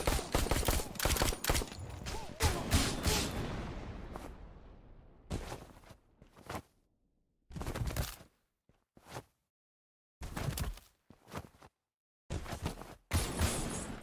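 Pistol gunfire in the video game Suit for Hire: a dense rapid volley of loud shots at first, then separate bursts and single cracks spaced by silences, with no talking.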